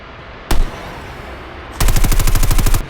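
Video game gunfire cracks out as a single loud shot, followed after a pause by a rapid, evenly spaced automatic burst of about a dozen rounds, close and dominant with no talking.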